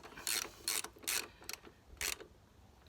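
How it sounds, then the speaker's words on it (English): A ratchet snugging the bolt of an R&G exhaust hanger on a Honda CB500X, heard as short bursts of close, crisp clicking in an uneven rhythm with brief pauses between strokes. "all we're going to do now is just nip it up and then torque it out"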